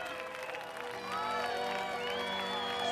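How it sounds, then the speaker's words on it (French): Crowd clapping and cheering for a winner at an event in the 2016 French drama Black Beauty, a dense, continuous wash of applause with whoops that grows louder partway through. "On l'applaudit bien fort."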